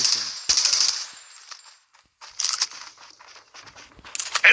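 Bursts of automatic gunfire from the Call of Duty Mobile video game, rapid rattling volleys separated by short pauses, some sharp and loud, others thinner and more distant, with no voices.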